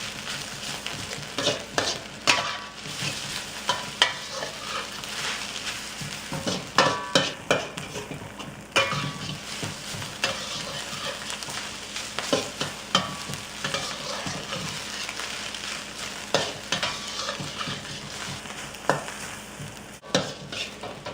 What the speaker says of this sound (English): Give this all a really nice good stir.